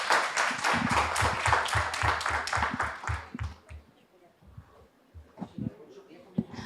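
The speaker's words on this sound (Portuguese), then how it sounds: "uma salva de palmas para a nossa conferencista" Audience applause for a conference speaker at a university academic event, a few seconds of dense clapping that fades into a quieter room with scattered voices and small knocks.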